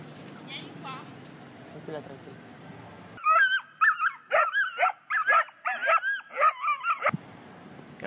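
A male dog lets out a series of sharp yips and whimpering barks in quick bursts, loud and close, after a quieter stretch of outdoor background noise.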